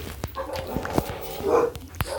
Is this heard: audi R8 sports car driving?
no